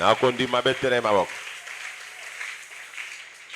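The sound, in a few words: congregation applauding to acclaim the Lord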